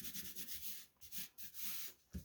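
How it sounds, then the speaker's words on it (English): Glue being rubbed off paper by hand during junk journal construction: quick, close, dry rubbing strokes in uneven bursts with short pauses between, ending on a sharper scuff. "Now I have to come along and rub all of this glue off as well."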